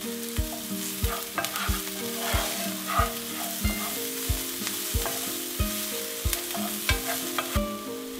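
Garlic sizzles in oil and butter in a pan, with a steady frying hiss broken by regular scraping strokes of a utensil stirring, close and alone.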